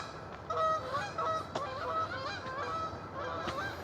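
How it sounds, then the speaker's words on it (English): Geese honk repeatedly on a morning outdoors, a cluster of nasal calls overlapping in quick, uneven bursts, fairly faint and distant over a soft background. "The geese are getting after it this morning."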